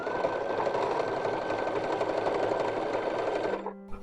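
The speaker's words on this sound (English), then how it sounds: "I'm sewing with a 1/2 inch seam allowance because I added 1 inch extra." A sewing machine runs steadily and loudly while stitching fabric for a 19th-century-style baby corset with a half-inch seam, then stops near the end with a brief mechanical clunk.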